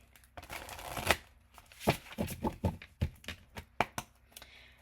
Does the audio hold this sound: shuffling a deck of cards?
yes